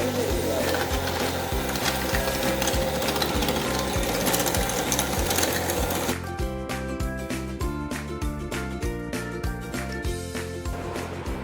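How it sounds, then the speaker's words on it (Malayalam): Five eggs and a cup of sugar are beaten for a sponge cake with a steady, rhythmic mechanical whirring and clatter. The pattern shifts partway through to a sharper, more distinctly pulsing beat. "ആദ്യം തന്നെ 5 മുട്ട, 1 കപ്പ് പഞ്ചസാര എടുത്ത് നന്നായിട്ട് തന്നെ ബീറ്റ് ചെയ്യാം."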